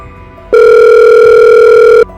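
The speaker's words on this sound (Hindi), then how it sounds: "मैक्स जॉन को फ़ोन करने लगता है" In an animated story, a phone call is dialled, and a loud, clean electronic telephone tone sounds steadily for about a second and a half before cutting off abruptly over faint background noise.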